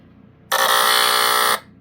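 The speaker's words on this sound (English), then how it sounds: "So it's just your average horn. It's the Delta alarm, basically." An Ultraguard OI 012 line-cord smoke alarm's horn sounds during a test in one loud, steady, harsh tone lasting about a second, starting and stopping abruptly in a quiet room.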